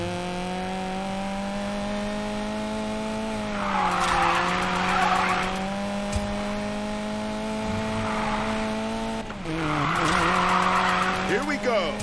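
A car drifting in Need for Speed Payback, with a steady engine drone running throughout and two loud bursts of tire squeal and skidding rising over it.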